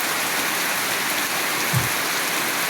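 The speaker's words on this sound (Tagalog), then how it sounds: "malakas ang ulan guys" Heavy rain from Typhoon Basyang pours down steadily in a dense, continuous hiss, loud and close, with one soft low thump partway through.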